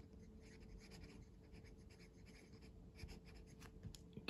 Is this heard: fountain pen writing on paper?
yes